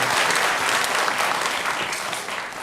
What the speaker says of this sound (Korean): 박수를 우리 하나님께 올리겠습니다.